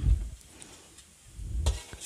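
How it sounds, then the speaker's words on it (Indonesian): Shallots fry quietly in a pan with a faint sizzle, broken by low scraping and stirring noises at the start and near the end. "kita goreng dulu bawang merahnya lanjut dulu sebelum kita menumis"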